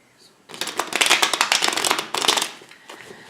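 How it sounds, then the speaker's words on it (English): Tarot cards being shuffled up close, a dense rapid riffling patter that runs for a couple of seconds, pauses briefly, then resumes. "let's just shuffle a little bit more here and see what the cards have to say"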